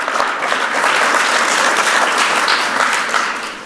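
An audience at an MIT event at the Computer History Museum applauds for the 100K competition, a steady, dense wash of many hands clapping close and loud throughout, easing off slightly at the end.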